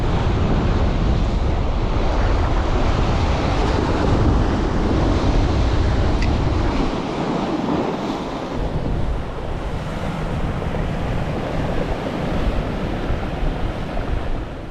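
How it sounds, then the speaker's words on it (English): Strong wind buffets the microphone on a shore during bass lure fishing, with a constant roaring rush over waves and surf, loud and unbroken throughout. "Well, this wind is really proving difficult."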